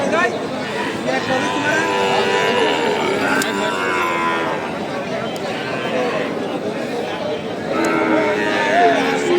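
Calves low and moo at a moderate distance amid a noisy outdoor cattle market, with people talking in the background.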